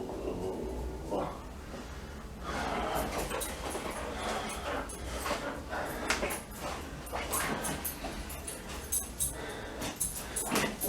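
A puppy dog growls and huffs in short rough bursts during rainy-day play, close by, with snorts and small whimpery yips and a steady noisy background.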